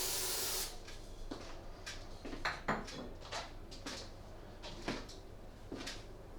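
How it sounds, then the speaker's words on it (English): An aerosol can is sprayed into the air of a room to test a Levoit Vital 100S smart HEPA air purifier, giving repeated short hissing bursts of varying length over steady background hum. "and just spray"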